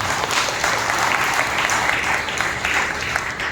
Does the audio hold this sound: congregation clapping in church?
yes